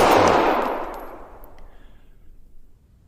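A single gunshot at a shooting target during a VR shooting drill, loud at the onset and then decaying through a long fading tail with no voices.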